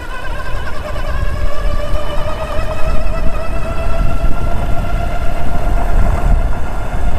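A NEXXBIKE X5 Plus electric dirt bike with a 1000W motor, 48V battery and 20-inch fat tires being ridden in second gear with pedal assist, giving a steady loud rush of wind and tire rumble with a faint rising motor whine, close and continuous.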